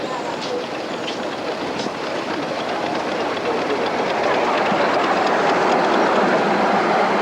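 Romulus 0-4-0 miniature steam locomotive Biddy on 7¼ inch gauge track at an outdoor society meeting in Betws-y-Coed, giving a steady rushing chuff and rumble with faint rail clicks, close and continuous throughout.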